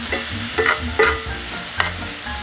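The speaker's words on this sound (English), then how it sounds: "I already have the meat pre-shredded and we're gonna add it to our pan." Pre-shredded beef stirred into a pan with sautéed onions, giving a steady low sizzle broken by a few brief scraping stirs, close and moderately loud, with no voices.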